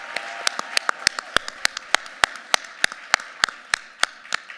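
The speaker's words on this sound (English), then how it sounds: "Give yourselves a round of applause for showing up." A small audience at a pitch competition event claps in sparse, separate sharp claps spaced about every third of a second, fairly close and without voices.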